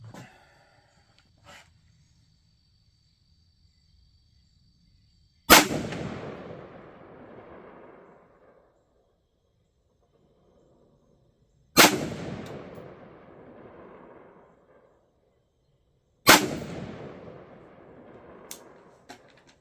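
Three loud, isolated rifle shots at a target range, several seconds apart, each a sharp crack trailing into a rumbling echo over otherwise quiet surroundings.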